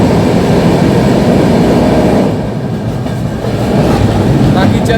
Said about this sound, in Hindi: अभी हमारी ट्रेन पहुंच चुकी है मथुरा जंक्शन